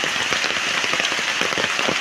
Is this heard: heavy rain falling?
yes